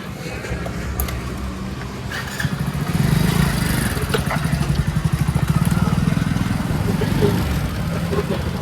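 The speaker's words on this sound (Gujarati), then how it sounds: "તો બાઈક જાય" A motorbike runs nearby on a road outing, its engine putting along steadily and growing a bit louder and rougher midway, with no speech over it.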